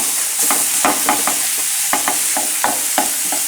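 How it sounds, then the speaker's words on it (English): Salmon fries in a pan with shallots and garlic, a loud, steady sizzle broken by intermittent scraping and stirring strokes, with no voices. "It's going to take a few minutes for that fish to cook."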